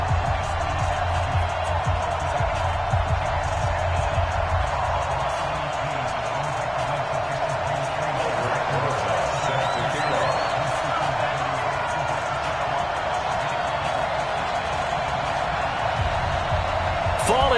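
Stadium crowd noise from the Madden NFL video game ahead of a Washington Redskins versus New York Giants matchup, a steady dense roar of cheering at even loudness throughout, with commentary-like talk mixed in.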